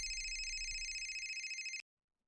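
A telephone rings steadily with a bright electronic trill for nearly two seconds, loud and close, then cuts off abruptly into silence.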